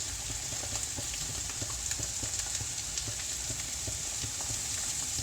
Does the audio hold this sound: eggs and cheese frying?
yes